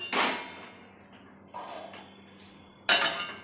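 A metal lid clanks onto a pot of red amaranth greens cooking on a home stove, with a sharp clatter at the start, a few softer taps in between, and a final bright clang near the end.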